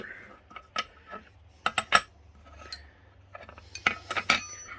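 Metal hand tools, tappet wrenches among them, flipped over on a hard surface, giving a scattered run of clinks and knocks, close and fairly loud, with no talking.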